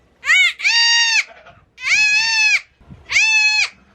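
A newborn miniature goat kid bleats three times, loud and close, with drawn-out cries separated by short pauses.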